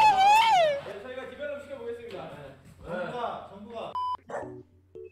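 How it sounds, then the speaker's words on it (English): A pet dog at home barks and yips in short bursts near the microphone, with whimpering tones and a high yelp at the start, while people talk over and between the barks. "Sorry, that's my dog."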